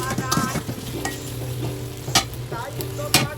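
Onions frying in a pan with salt for a layer chicken curry, a steady sizzle under repeated scraping stirs of a spatula, close and continuous with occasional sharper scrapes.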